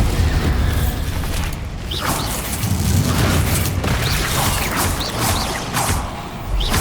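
Bombarda blasting spells explode in Hogwarts Legacy, a run of heavy booms and crashing debris rolling one after another through a dense, loud battle din, with sharp whooshes flaring between blasts.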